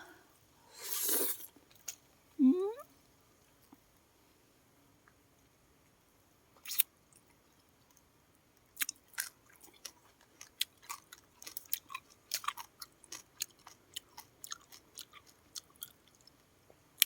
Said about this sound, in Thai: ดูด เอาแต่ น้ำ มันก่อนแล้วค่อย กินเนื้อ